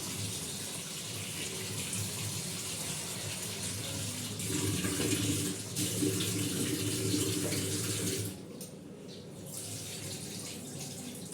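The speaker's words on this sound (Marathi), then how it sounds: "नेहमी तांदूळ असे स्वच्छ धुवून घ्यायचे" Rice is rinsed in a kitchen under a running tap, a steady close rush of water that drops in strength for the last few seconds and then continues.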